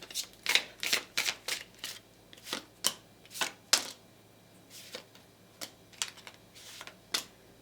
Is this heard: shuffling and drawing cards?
yes